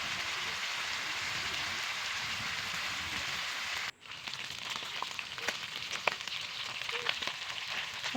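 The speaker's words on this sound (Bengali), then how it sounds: "মাছগুলো ভালোভাবে ঘুরিয়ে সমানভাবে সব দিক ভেজে নেব।" Shing and koi fish fry in a pan of oil, a dense steady sizzle that briefly cuts out, then returns as crackling spits and pops, close and continuous.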